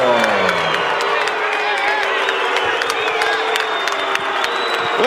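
A large boxing arena crowd reacts to a majority decision for Julio Cesar Chavez Jr., a loud continuous roar of mixed boos, cheers and whoops, with an announcer's voice over the din.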